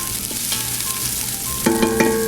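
Aromatics for cioppino sizzle in a pot as they are stirred, a steady frying hiss broken by a few clattering scrapes of the spoon near the end, close and fairly loud.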